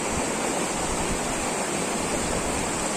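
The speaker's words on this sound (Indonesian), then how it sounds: "Nah, ini sungainya ya. Aliran sungai ini yang nanti kita cari." Forest river in West Sumatra rushing over large rocks, a loud, close, steady broadband roar of water with no pause across the whole stretch.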